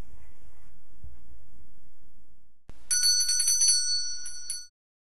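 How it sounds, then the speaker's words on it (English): A patient rings a bell in a clinic room, a bright metallic ring that rattles for nearly two seconds after a sharp tap, following a quiet stretch of low room noise. "Ring the bell when you're ready, and I'll come back in, okay?"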